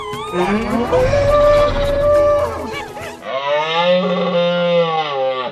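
Two long, deep, cow-like bellowing roars of a herbivorous dinosaur, loud and close, the second a steady drawn-out moan, like a large creature's call in a film.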